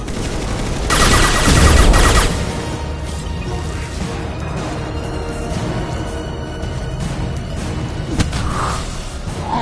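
Loud gunfire in the video game Mass Effect: a dense burst of rapid automatic fire and booms in the first two seconds, then continuous battle noise with scattered shots and impacts.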